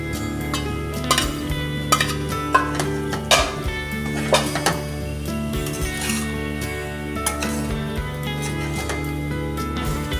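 Soybean chunks are tossed into a frying pan of spiced potatoes and stirred, with a spoon clattering and scraping against the pan in irregular knocks over a steady tonal background, with no talking.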